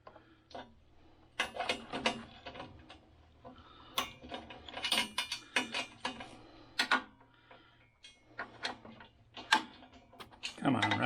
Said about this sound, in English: Come on, ratchet.